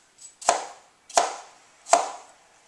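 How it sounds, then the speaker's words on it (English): Three sharp knife chops cut fruit into chunks on a board, evenly spaced about two-thirds of a second apart, each a crisp close thud with a brief ringing tail, no voices. "Then get the rest of the seeds out of here. Chop it into chunks."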